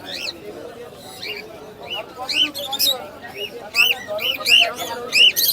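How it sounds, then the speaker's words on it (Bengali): Caged birds at the Mirpur-1 pet bird market give short, repeated high chirps and calls that rise above a steady murmur of market chatter and people talking nearby. "তো চমৎকার কিছু পাখি আছে ভাইদের কাছে।"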